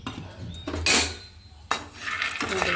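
Metal pan clattering as peanuts, chana dal, urad dal, mustard seeds, fenugreek and coriander seeds are dry-roasted for a karivepaku karam: loud scraping and rattling strokes of a spoon against the pan, close up, with no talk.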